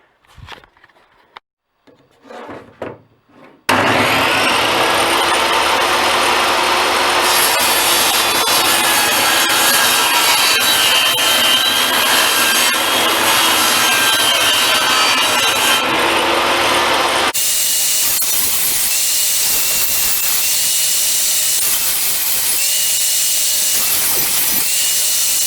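A table saw roars loud and close, cutting 18 mm melamine board into slides; a few quiet handling knocks come first, then a long sustained whine of the blade through the board that shifts to a brighter, harsher tone partway through.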